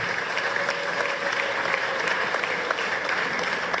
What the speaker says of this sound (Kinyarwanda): twongeye dukomere Imana yacu amashyi tuyishimira.